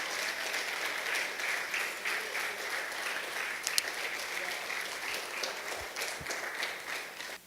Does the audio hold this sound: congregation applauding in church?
yes